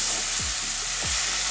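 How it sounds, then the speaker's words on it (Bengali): Katla fish head being fried in a pan for a jackfruit curry, a continuous close hiss of sizzling oil with a couple of low thumps from stirring, no voices. "এখন মাছের মাথাটা ভালো করে কষিয়ে নিয়েছি"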